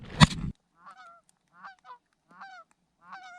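Canada geese honking in flight during a North Dakota goose hunt: a loud close burst of calls, then several repeated honking phrases spaced out and fainter, with no talk over them.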